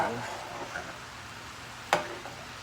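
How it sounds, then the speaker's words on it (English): Cheese sauce for fries is stirred in a pot kept on warm, a faint, soft swirling scrape close by with one sharp click of the utensil near the end. "I'm stirring it. it's not sticking."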